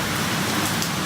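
Heavy rain pouring steadily during flash flooding in Townsville, a dense, continuous hiss close by with no break over the brief moment.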